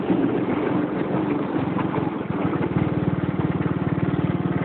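Small ATCO/John Deere garden tractor engine running flat out in third gear, a steady close throbbing drone with a fast regular pulse, loud and continuous with no talk.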